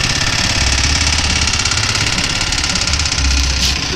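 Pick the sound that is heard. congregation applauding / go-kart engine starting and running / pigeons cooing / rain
go-kart engine starting and running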